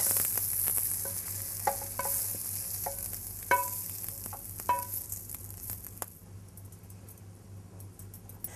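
Jackfruit frying in a pan, a bright hiss of sizzling oil with a few light knocks and stirring clicks near the start, fading gradually toward the end.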